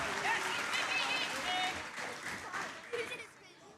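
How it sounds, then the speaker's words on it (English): A crowd at a high school wrestling quad meet applauds seniors, a fairly faint, steady patter of clapping with cheers, fading out near the end. "Let's give one big round of applause for our seniors, Ava, Mary, and Brennan."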